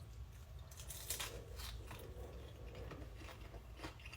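Close, faint crunching of teeth biting into a crunchy appetizer, a few crisp cracks and snaps spread over a few seconds against a quiet room hum.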